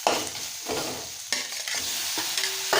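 Tomatoes sizzle while being sautéed in a pan for a tomato kurma, with steady frying hiss broken by several scraping stir strokes close by, and no talking.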